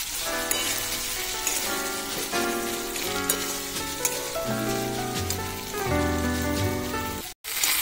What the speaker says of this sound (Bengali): এবার এই মশলাগুলো পেঁয়াজগুলো ভালো করে ভেজে নেব।